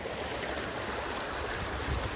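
Fast-flowing river water rushes in a steady, dense, broadband wash, close and continuous with no pauses, at a gold panning site over bedrock gravels in the UK.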